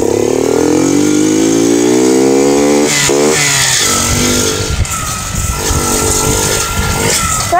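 A Fiat Mobi four-stroke motorcycle engine revs hard during a wheelie, loud and close, its pitch rising then dropping and climbing again through the whole stretch, with no talking.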